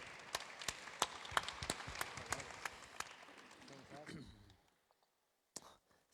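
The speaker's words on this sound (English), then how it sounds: "A big round of applause for the upcyclers." A small audience claps for upcyclers at a community meetup in sparse, distinct claps with some soft murmuring, tapering off and ending in near silence.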